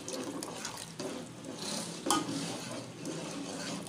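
A spoon stirs flour into simmering chicken nihari in a pot, soft repeated scraping and sloshing strokes with a faint clink of metal, quiet and close, with a gentle bubbling underneath.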